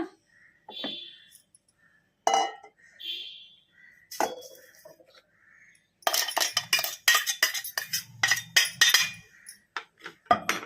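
Ground powder from a mixer jar is tipped into a kitchen vessel, with scattered clinks of metal dishes and a scraping, tapping stretch of rapid knocks in the second half, close by and moderately loud.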